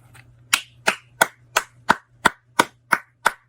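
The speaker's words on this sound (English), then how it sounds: "Clap it up, show each other love" At a high school commencement ceremony, sharp, evenly spaced claps ring out about three per second, nine crisp strikes in a steady rhythm over a low background hum.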